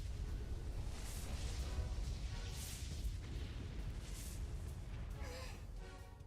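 A fiery, fireworks-like explosion attack in the game WitchSpring R gives a steady, low, roaring rumble with scattered crackling bursts, fairly quiet and without any voices.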